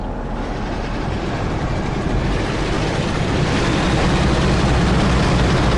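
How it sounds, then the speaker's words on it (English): A train engine in Train Sim World 2020 roars with a loud, steady, heavy rumble as the locomotive pulls forward, its broad continuous drone building slightly over several seconds. "This engine is really, really nice. I want you to hear its engine."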